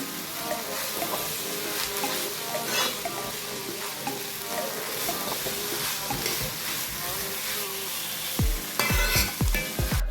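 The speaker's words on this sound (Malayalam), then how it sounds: "പിന്നെ നമുക്കൊന്ന് നന്നായിട്ടൊന്ന് മൊരിച്ചെടുക്കാം" Chopped banana flower thoran roasts in a pan, a continuous close sizzle with stirring scrapes running throughout, ending in a few sharper knocks of the spoon against the pan.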